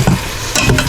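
Pork and London broil chunks stirred together in a pressure cooker pot for chunky chili, a short loud burst of scraping and sizzling with two bright swishes, close up and without talk.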